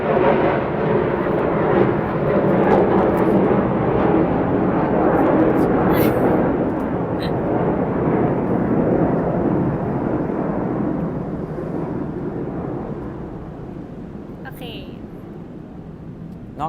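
An airplane passes overhead in an area with heavy traffic, a loud, steady broadband roar that slowly fades over about seventeen seconds.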